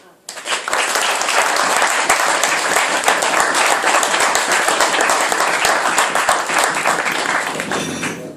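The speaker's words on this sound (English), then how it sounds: "And the longer the applause, the shorter the speech." Wedding reception guests applauding during the best man's speech, a loud, dense burst of clapping that starts abruptly, holds steady for several seconds, then tapers off, with some chatter mixed in.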